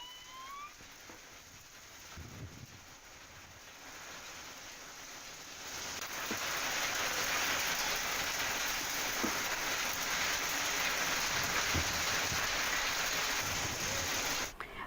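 Unseasonal rain falls steadily in Khamgaon, Maharashtra, growing heavier and denser partway through into a constant hiss of downpour, with no voices.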